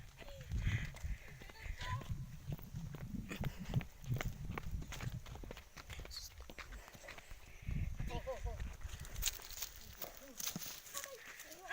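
A horse walks on its hooves, with irregular clip-clop knocks coming through under frequent nearby talking from several people.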